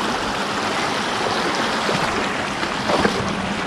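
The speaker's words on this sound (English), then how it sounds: "go fish a wild trout stream that's flows into this creek" Broadband rushing flow of a wild trout creek beneath a busy highway, a loud, steady close-up roar of moving water with no speech.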